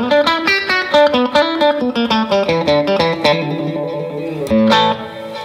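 A clean electric guitar plays a quick melodic run of bright, ringing notes through an amplifier, with a short strummed flourish near the end.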